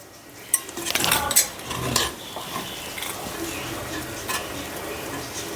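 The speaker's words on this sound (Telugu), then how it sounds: "ఒక్కసారి కలిపేసుకుందాం" Rice is stirred with ghee in a pot using a wooden stick, giving a few close scrapes and knocks against the pot over a soft, continuous sizzle that quiets after the first seconds.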